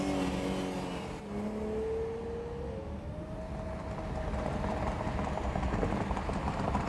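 Chrysler Turbine Car cruising on a freeway on bias-ply tires, a steady turbine whine rising in pitch over continuous road and wind roar, loud and close throughout.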